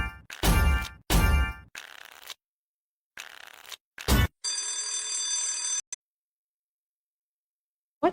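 A mobile phone rings in the middle of a card slot game session, sharp bright ring bursts starting and stopping, then a steady electronic tone that cuts off into silence.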